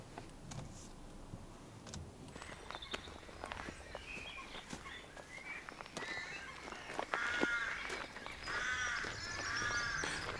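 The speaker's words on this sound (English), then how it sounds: "The crows are absolutely up in arms today." Crows caw repeatedly around a pretty Dorset village near its church, harsh calls scattered at moderate distance over footsteps and outdoor ambience, growing busier toward the end.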